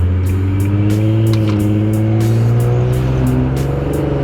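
A steady, deep, mellow exhaust drone from an Infiniti G37 sedan fitted with Flowmaster Flow FX resonators, rising and falling slightly in pitch, heard from close by, with no one talking.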